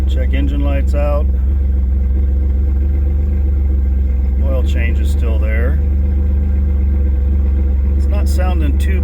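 A 2000 Pontiac Firebird engine idles steadily and loudly with a constant low rumble and a possible slight miss, while someone talks over it in short bursts.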